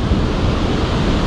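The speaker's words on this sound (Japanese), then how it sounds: "どこまで続くんでしょうか、この滝は。" Sogi waterfall in Kagoshima, Japan, rushes with a loud, dense, unbroken roar of falling water that fills the short moment close by.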